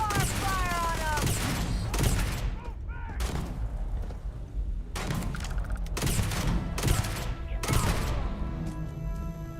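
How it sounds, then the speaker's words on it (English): Rapid bursts from a multi-nail-gun-like weapon in the video game Starfield, loud repeated volleys with booming impacts in several clusters, separated by short pauses. "It was like a multi-nail gun kind of effect."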